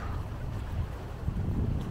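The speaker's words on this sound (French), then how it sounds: "il y a du vent, hein, comme vous pouvez le voir" Steady wind blowing over a sailboat at sea off the tip of Borneo near Brunei, a continuous roaring rush with heavy low rumble and no voices.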